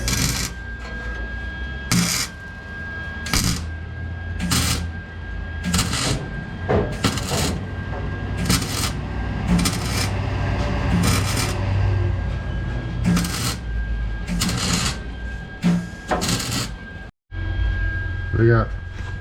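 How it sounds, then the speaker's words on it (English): Flux core welder tack welding thin, rusty exhaust pipe on a Subaru: a steady crackling sizzle broken into short repeated bursts with brief pauses, close and fairly loud. "I'm just gonna kind of tack weld that together."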